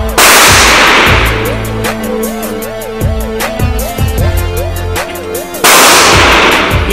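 Glock 17 and Glock 21 pistols fire at an indoor shooting range, two sharp, loud nearby reports separated by a stretch of duller, distant shots from other lanes, with a wavering electronic tone running in the background.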